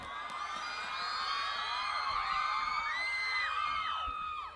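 A concert crowd at a Thai talent-show stage event in Chiang Rai screams and cheers continuously, with high-pitched shrieks and whoops layered over a dense, steady roar.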